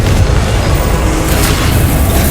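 A Confringo blasting spell in Hogwarts Legacy erupts into a loud, sustained roaring blast that fills the whole moment with dense, rumbling noise and no clear pauses.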